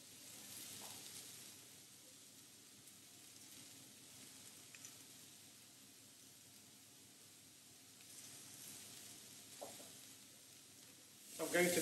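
Steaks sizzle quietly in a pan, a soft continuous hiss that holds steady for several seconds with faint occasional pops, before a louder rustle at the very end.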